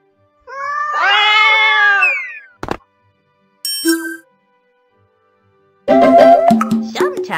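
Cats in the Granny in Paradise video game meow loudly in two bursts, the first long and wavering, the second later and choppier, separated by a sharp ding and a short chime.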